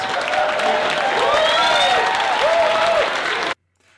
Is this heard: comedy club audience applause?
yes